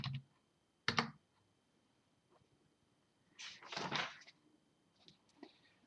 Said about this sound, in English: I meant to go here and type in 133.